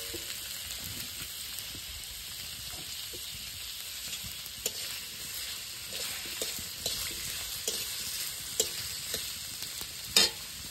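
Stomach meat fries in its own rendered fat with tomatoes, a continuous moderate sizzle and crackle with occasional sharp pops and utensil clinks, heard without talking.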